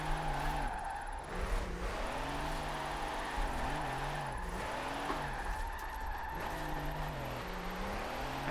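Car held sideways in a drift with the e-brake in Forza Horizon 4, played on a wheel: a continuous engine drone rising and falling with revs, tire noise underneath, steady and close throughout.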